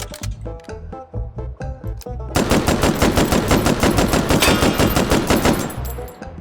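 A WWII light machine gun shorty firing in the virtual reality game H3VR, first a few separated shots, then a long rapid burst of evenly spaced, loud, close reports that fades at the end.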